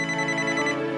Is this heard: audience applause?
no